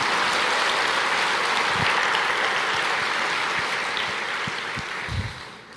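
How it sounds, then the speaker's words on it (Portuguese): A church congregation applauds during a sermon, a dense sustained wash of clapping from a large crowd that holds steady and then begins to thin out toward the end. "Você pode aplaudir o Senhor,"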